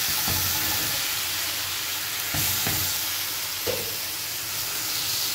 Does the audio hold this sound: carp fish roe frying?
yes